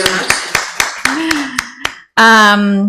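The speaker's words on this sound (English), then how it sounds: "maybe we can give you another super applause so you can listen to it properly" An audience claps in scattered, uneven bursts at a conference event, close and fairly loud, then a sustained tonal sound like a voice or music takes over at the end.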